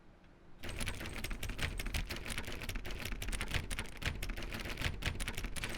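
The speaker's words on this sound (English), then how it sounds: "There is an achievement for clicking on door 430" Steady, rapid clicking on door 430 in The Stanley Parable: Ultra Deluxe, a fast run of dry, close clicks that begins suddenly after a brief quiet moment and continues without pause.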